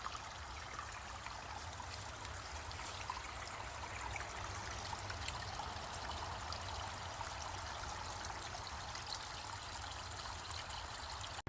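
Water trickles and streams steadily outdoors as plants are watered, a soft continuous hiss with no pauses or voices.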